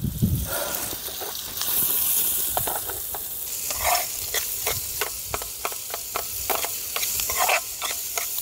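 Onion sizzling in about two spoons of oil at a beach picnic, with a steady hiss and frequent sharp scraping stirs, loud and close with no voices.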